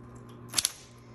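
A Smith Corona Coronet Auto 12 electric typewriter strikes two keys in quick succession, a pair of sharp close clacks over a faint motor hum.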